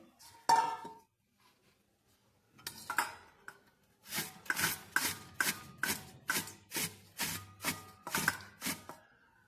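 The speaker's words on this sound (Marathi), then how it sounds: "आता आपण कांदा किसून घेऊया।" An onion rubbed over a metal grater for potato pakodas, first in a short burst, then a pause, then a steady run of about ten rasping strokes at an even rhythm, close and fairly loud.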